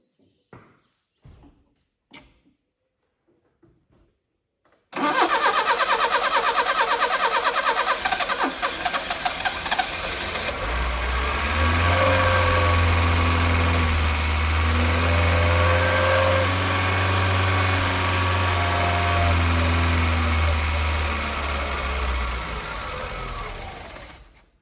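A Peugeot 305 SR that has sat for 32 years cranks a few short times, then catches and roars to life, running loud and a bit uneven before settling into a steady, rough idle, then cutting off.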